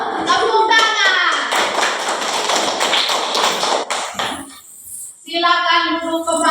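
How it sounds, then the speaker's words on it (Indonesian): A class of young children in an Indonesian classroom clapping hands in a chant routine, a busy run of quick claps and taps with children's voices over it, a short pause, then more voiced chanting near the end. "Tepuk tangan."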